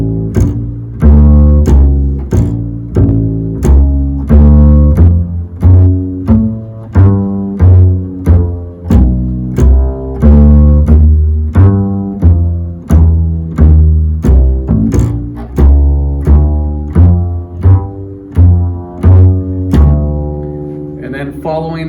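Plucked bass guitar walks a steady line of notes with passing tones, evenly spaced and close, with a few held tones and no talking over it.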